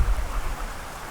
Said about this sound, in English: It's got this babbling brook.